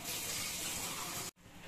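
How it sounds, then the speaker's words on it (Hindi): Water pours steadily into besan sabzi in a cooking pan, a continuous loud rushing gush that cuts off abruptly near the end. "पानी डाल के अच्छे से चला लें।"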